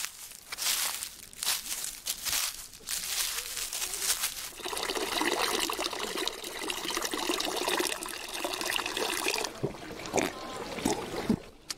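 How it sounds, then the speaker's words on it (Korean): Spring water at the entrance to Bulguksa temple on Tohamsan trickles and splashes steadily nearby, with sharper pouring sounds partway through and a soft background of outdoor noise. "낙엽 밟는 소리, 물소리 다 좋습니다."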